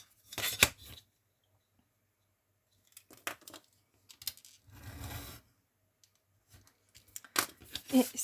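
Paper or sheet material being snipped with scissors during a craft measuring job, in several short bursts of cutting and crinkling separated by quiet pauses, close and fairly loud.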